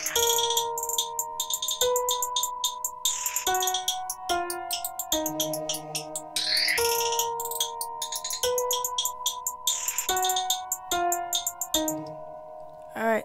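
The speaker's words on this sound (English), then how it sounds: "So what I'm going to do is select a few various hi-hats." Sequenced hi-hat samples from a Reason NN-XT sampler tick in a steady rapid pattern over tonal synth notes that shift pitch every couple of seconds, with no voices.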